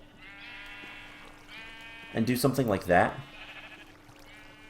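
Sheep on a Minecraft sheep farm bleating in a short wavering cry, moderately loud, with someone talking over a steady background tone.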